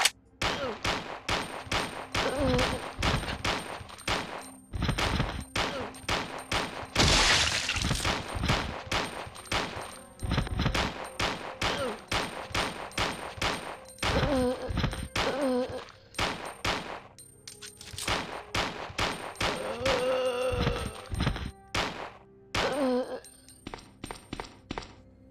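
Rapid bursts of gunfire in the Resident Evil 3 P.T. mod video game, loud sharp shots fired in quick succession with brief pauses between volleys, close and dominant throughout.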